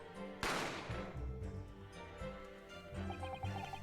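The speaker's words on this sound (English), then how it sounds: "You heard the gunshot, you mean?" A gunshot sound effect from The Great Ace Attorney video game: one sharp loud blast near the start that decays into a longer rumbling tail, under background music.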